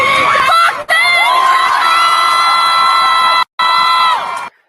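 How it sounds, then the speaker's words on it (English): A loud crowd in London chanting and yelling together, sustained voices swelling over several seconds with two abrupt cut-outs, shouts and whoops rising above the mass of sound. "This is the crowd in London."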